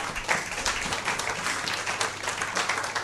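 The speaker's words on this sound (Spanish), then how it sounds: "Regálele un aplauso al Señor" A church congregation at a worship service applauds steadily, a dense wash of clapping heard at moderate distance with a low hum beneath it.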